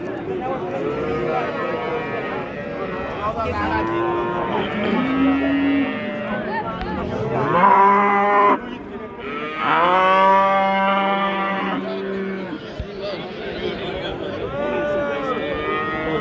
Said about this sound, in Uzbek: Mana katta sigir ekan.